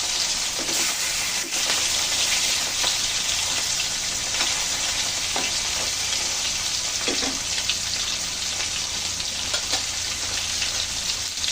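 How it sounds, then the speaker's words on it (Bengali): Hilsa fish fries in hot oil in a pan, giving a loud, dense, continuous crackling sizzle close by, with occasional sharper pops and faint stirring. "তেল গরম হয়ে গেছে, মাছ দিয়ে দিচ্ছি।"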